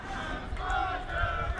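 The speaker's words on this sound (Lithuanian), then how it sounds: "Nors žiūrovai yra iškėlę plakatą Panevėžys ir dainuoja" Football spectators at a Panevėžys home match against Džiugas in Lithuania's Pirma Lyga sing and chant together, a steady crowd roar of voices that swells slightly midway and stays loud throughout.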